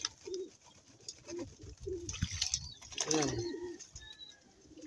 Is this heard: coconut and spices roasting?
no